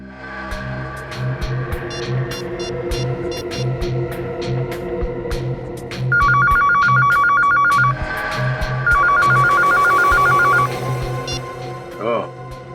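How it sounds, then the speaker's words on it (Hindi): A phone rings in two electronic trilling bursts, loud and close, while people talk and background music plays. "ये फोन है। ये फोन कौन इस्तेमाल करता है?"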